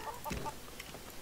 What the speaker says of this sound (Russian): Курицы же это? Курицы, да.